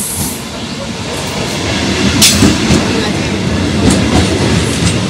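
A train passes close by with a loud, sustained rumble and rhythmic clatter of wheels on rails, plus occasional hissing and squealing bursts.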